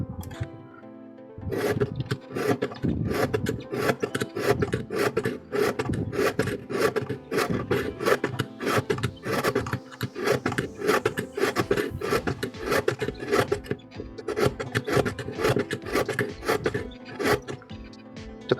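Dull kitchen knife drawn through a ceramic knife and scissor sharpener, rapid rhythmic rasping strokes repeating steadily over and over, close up and crisp after a brief quiet start, with no voices.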